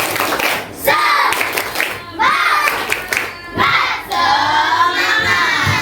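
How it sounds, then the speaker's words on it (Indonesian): A group of children and adults doing the rhythmic 'tepuk semangat' spirit clap, with bursts of patterned clapping mixed with excited shouting voices, loud and close, coming in several energetic waves. "Tepuk semangat."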